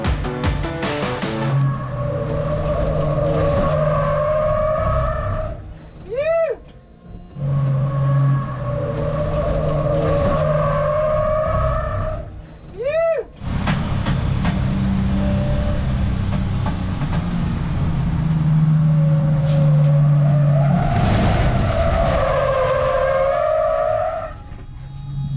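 Heavy race car driven on a track, its engine droning loudly with rising and falling revs, interrupted by a few sharp tyre squeals and short gaps as it slides around, close and continuous.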